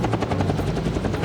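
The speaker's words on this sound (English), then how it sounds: "That's a helicopter." A helicopter's rotor chops in a fast, steady pulsing beat over a broad roar, loud and close, with no speech, as helicopters carrying vehicles arrive in the 1997 film The Lost World: Jurassic Park.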